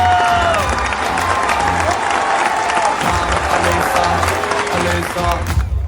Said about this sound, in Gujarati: તો જોરદાર તાળીઓ સાથે શાઉટ સાથે સ્વાગત થવું જોઈએ.